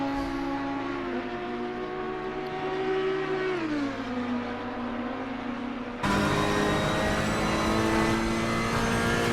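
A race car engine in the video game Assetto Corsa Competizione drones steadily as the car rejoins the track at Kyalami after a pit stop, its pitch shifting with gear changes before the engine tone abruptly swells louder.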